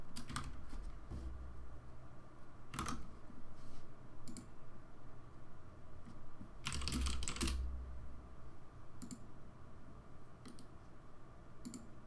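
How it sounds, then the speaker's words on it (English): Soft, quick keystrokes clatter on a computer keyboard in short irregular bursts and single clicks, faint and close in a quiet room with no talking. "Actually, I can just say it instead of typing it."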